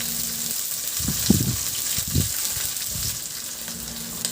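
Sliced onions dropped into a hot pan with squid and chili, giving a steady frying hiss with a few bursts of louder crackle and spatter, close and clear.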